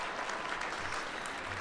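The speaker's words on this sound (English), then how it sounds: "Can I get a clap for that? Some applause for you?" Applause from a packed conference room audience at an advocacy event, continuous, dense clapping throughout the short stretch with no pause.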